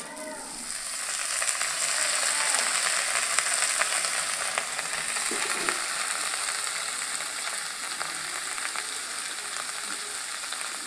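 Eggplant and potato pieces go into a pan of frying onions, setting off a loud, steady sizzle close up with light scraping and stirring, no talking.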